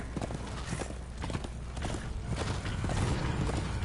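Hoofbeats of a horse in the game Darksiders 2, quick regular clopping up close over a dense noisy game backdrop, with no talk.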